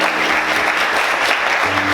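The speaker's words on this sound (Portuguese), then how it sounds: "Você pode aplaudir Jesus bem forte?" Church congregation clapping loudly and continuously, a dense wash of applause from many hands filling the room throughout.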